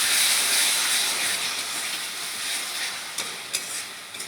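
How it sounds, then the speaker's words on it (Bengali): Spices hiss and sizzle loudly in a pan after water is poured in for a Bengali-style fish curry, the steam hiss slowly easing, with a few small clinks near the end. "এবার আমি জল দিয়ে এটাকে ভালো করে একটু কষিয়ে নেব।"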